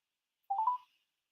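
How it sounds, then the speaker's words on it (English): A phone call being dialed: one short electronic tone of about a third of a second, clear and alone in silence. "Let me call the boy one more time."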